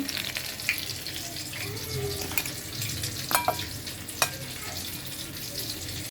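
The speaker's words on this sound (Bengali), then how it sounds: "আমি মোগলাইটা উল্টিয়ে দিলাম একদম মুচমুচে করে ভাজতেছি" Mughlai paratha frying crisp in a pan, a steady low sizzle with scattered sharp clicks and taps of a utensil against the pan throughout.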